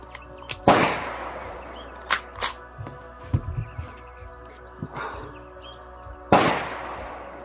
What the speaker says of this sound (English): Today we'll be shooting this Remington brass-plated hollow points.